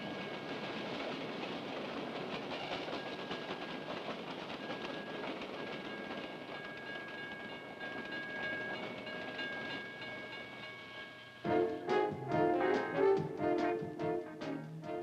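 A train rumbles steadily past with a continuous roar, then a clear rhythmic clickety-clack of railroad car wheels over track joints near the end.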